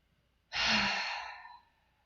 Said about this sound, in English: And a third breath.